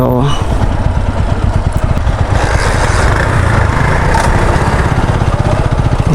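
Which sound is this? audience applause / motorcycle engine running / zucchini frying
motorcycle engine running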